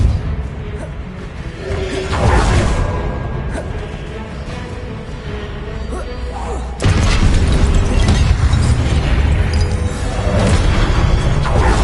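Confringo blasting spells explode in Hogwarts Legacy amid combat, with whooshing casts and booming bursts over a steady, loud mechanical battle din that jumps louder partway through.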